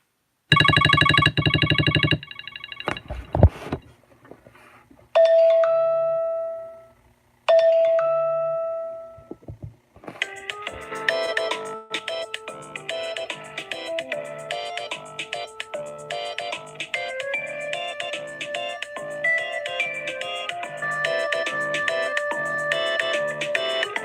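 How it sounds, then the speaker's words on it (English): A phone ringtone plays loud and close through good speakers, starting with a few separate chime and ding tones, then settling into a steady repeating melodic pattern for the rest of the clip. "when the ringtone is playing"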